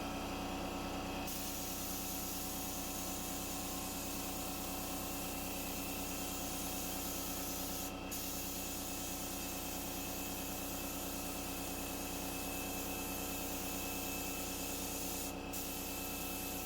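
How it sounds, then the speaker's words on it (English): A paint sprayer fitted with an orange nozzle sprays chalk paint onto furniture, giving a loud, steady, unbroken hiss for the whole stretch, alone and without talk. "it is time to get back to spraying."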